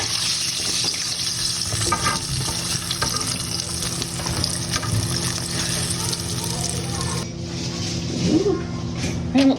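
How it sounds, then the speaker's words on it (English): Water splashes and sloshes inside a cooking pot as it is rinsed out, steady and close over background clatter, with people talking throughout. "So I'm gonna go ahead and wash this pot out"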